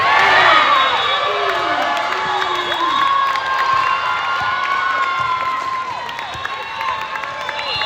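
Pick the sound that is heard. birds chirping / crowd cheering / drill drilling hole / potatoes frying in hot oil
crowd cheering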